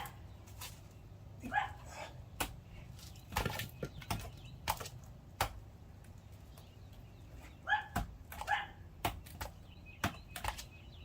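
Dog barking in short repeated bursts, near and fairly loud, scattered among sharp clicks and knocks in a workshop setting where a Milwaukee FastBack utility knife is being tested.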